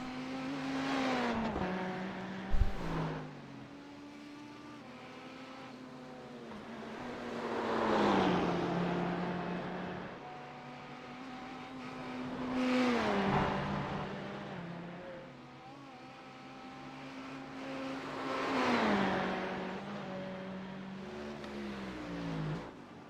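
Race car engine in iRacing during the Nurburgring 24 Hours, heard from a TV-style camera: a steady high engine note with repeated upshift and downshift sweeps and swelling passes, loud and alone without talk.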